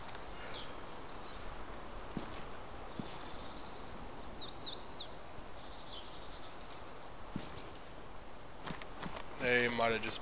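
Footsteps in a video game, walking around a building, come as faint, soft steps beneath steady background ambience, with people talking over them.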